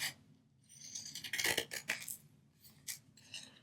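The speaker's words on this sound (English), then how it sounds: "I'm just going to cut the sides off on here." Pinking scissors cut through paper scraps close up in a quiet room, giving a burst of crisp snipping clicks followed by a few more scattered cuts.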